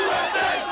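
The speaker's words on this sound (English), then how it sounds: "Spontaneous celebrations erupted outside the White House, and jubilant crowds gathered in Times Square." Jubilant crowds celebrating bin Laden's death outside the White House and in Times Square, a dense roar of many voices shouting and cheering, loud and sustained with no gaps.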